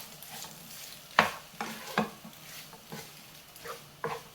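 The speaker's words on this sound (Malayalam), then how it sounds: "നല്ലതുപോലെ ഇളക്കി മിക്സ് ചെയ്യാം." Egg macaroni with tomato ketchup being stirred in a pan, a spoon scraping and tapping the metal in irregular clatters over a soft, quiet sizzle, close by with no talking.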